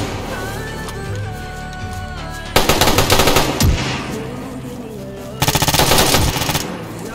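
Automatic gunfire in the DayZ video game: two long, loud bursts of rapid machine-gun shots, each lasting a second or more, separated by a quieter stretch of background game noise.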